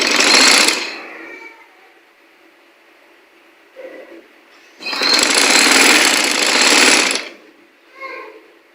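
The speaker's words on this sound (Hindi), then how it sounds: "यहाँ पर सिलाई लगा लेनी है" A sewing machine stitching pieces of fabric together for a tunic or frock runs in two loud, buzzing bursts, separated by a quiet pause with small handling noises.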